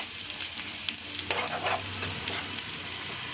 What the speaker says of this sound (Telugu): తర్వాత క్యాప్సికమ్ మొత్తం కూడా వేసుకోవాలండి. బాగా కలుపుకోవాలండి.